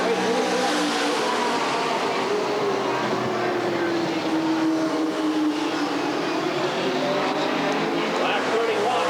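Race cars at Redwood Acres Raceway in 1989 brake hard into a turn and get back on the gas. Their engines roar loud and continuous, rising and falling in pitch over a steady crowd-and-track wash, with a voice talking underneath.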